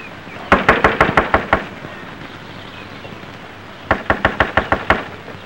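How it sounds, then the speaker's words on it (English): Two bursts of firm knocking on a door in a 1956 film, each a quick run of about seven sharp raps, separated by a short pause in a quiet room. "someone's knocking"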